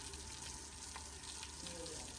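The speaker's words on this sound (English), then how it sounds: "now she's taken to the shower" Steady, faint hiss of water spraying from a shower hose onto a horse, continuous and even throughout with no voices.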